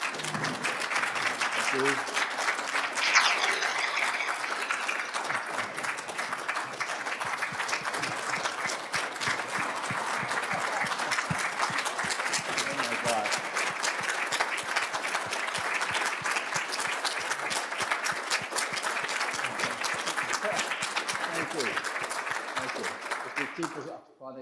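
An audience at a retirement symposium gives a speaker long, sustained applause. Dense, even clapping fills the room throughout, and a brief spoken word is heard near the start.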